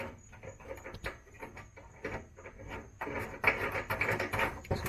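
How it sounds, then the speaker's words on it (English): A fuel tank bolt on a 1979 MG MGB is threaded in by hand, giving close, soft metallic scraping and rubbing with small taps that grow louder and busier in the final two seconds. No one speaks. "you can just stick the bolt in there and just try to get the threads to catch"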